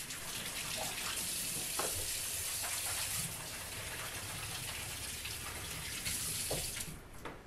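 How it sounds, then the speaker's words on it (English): Running tap water pours steadily into a kitchen sink as hands are washed, a continuous close rush with small splashes and shifts in flow, ending as the water is turned off. "I'll be right back, wash my hands."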